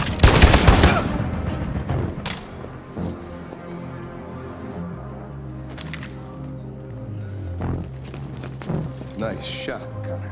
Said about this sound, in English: Nice shot, Connor.